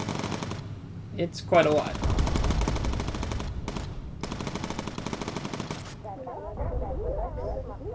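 Bomber machine gun fire in the video game Bomber Crew, on a B-17 bomber, comes as long loud rattling bursts broken by short gaps, with a voice talking briefly between bursts.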